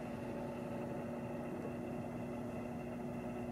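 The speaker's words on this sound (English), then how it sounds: "going to do a test run on the machine. We will close the lid and take your time down to 1 minute. Press start." An IntraSpin centrifuge on a test run with its lid closed, humming as a steady motor drone with a constant tone, close and continuous with no talk.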